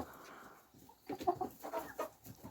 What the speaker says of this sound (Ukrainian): вони вже голос подають так, як дорослі кури